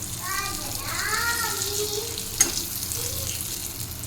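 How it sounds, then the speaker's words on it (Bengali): Eggplant (brinjal) pieces fry in oil with a steady, close crackling sizzle, while faint high-pitched voices drift in the background and a single sharp tap sounds midway. "বেগুনটা ভাজা হচ্ছে এখানে"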